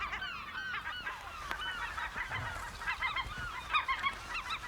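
Dense seabird colony on a Newfoundland island, many birds calling at once in overlapping honking, goose-like cries, a steady chorus at moderate distance with louder calls rising near the end, no talk.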